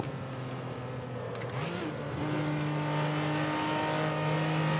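A Toyota MKIV Supra engine drones in the Assetto Corsa racing game, holding a steady note before climbing in pitch and settling into a louder, sustained rev.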